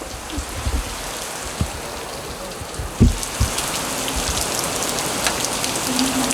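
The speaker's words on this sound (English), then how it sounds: "just the storms that are rolling in with it" Heavy storm rain pours steadily outdoors, a dense hiss of drops with occasional louder splats and thumps nearby; no one speaks.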